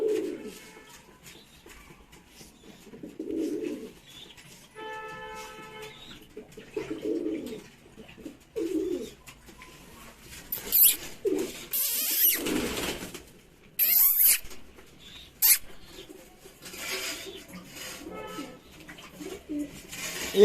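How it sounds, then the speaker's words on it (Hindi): A pigeon at a home flaps its wings in repeated bursts and coos in short phrases, with squeaky rustles and clattering noises mixed in and no talking. "एक कबूतर बहुत फड़फड़ा रहा है"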